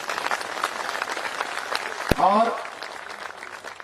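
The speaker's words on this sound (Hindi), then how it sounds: "एक संचालक के लिए जोरदार ताली होनी चाहिए" Enthusiastic audience applause for the host of a Hindi-language stage event, a dense, steady clatter of clapping lasting the whole stretch, with a voice speaking over it.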